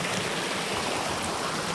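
Loud, steady rushing of floodwater flowing over submerged fields, a dense broadband roar with no breaks and no voices.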